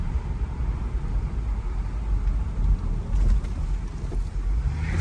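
A Mercedes SL500 with coilovers drives and accelerates, its engine a steady low rumble mixed with road and wind noise heard from inside the cabin, swelling a little partway through with no voices.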